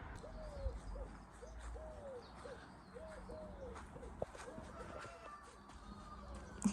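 Soft, repeated owl-like hoots call at an even pace over quiet outdoor ambience, with faint chirps and a few distant knocks.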